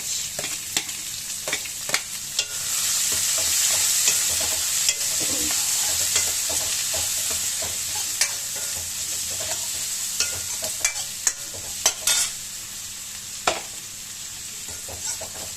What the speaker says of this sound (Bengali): এখন পেঁয়াজটা একটু ভাজা হোক